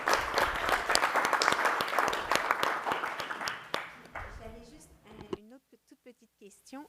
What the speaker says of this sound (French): Puis je pense que notre administration mérite une belle main d'applaudissement pour l'énorme travail qu'ils font.